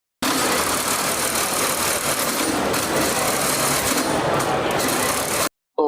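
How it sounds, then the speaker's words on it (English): A robot's swerve drive train at a robotics competition whirs and grinds loudly as it switches gears, a dense, continuous mechanical motor whine that stops abruptly near the end. "That's the sound of a swerve drive train switching gears."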